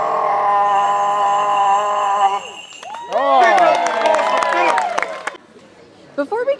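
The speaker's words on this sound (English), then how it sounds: "Big round of applause for Philip." Following a sung Christmas carol at Epcot, an audience breaks into applause and cheers for Philip, a short burst of clapping and whoops trailing off into quieter chatter.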